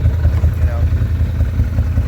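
A side-by-side UTV engine fitted with custom snorkels on the exhaust idles with a steady, deep, pulsing rumble, close by and continuous, with indistinct talk partly mixed in.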